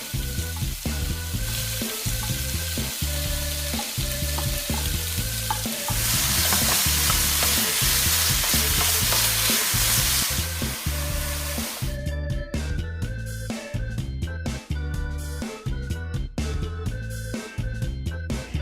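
Minced garlic and marinated beef stir-fried in a wok for beef fried rice, loud, close sizzling and frying with rhythmic spatula scrapes and tosses throughout, a burst of steam hiss midway, no talking.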